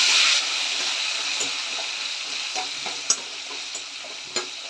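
Sambar ingredients fry in a pan with a steady, close sizzle, broken by a few sharp stirring scrapes and taps.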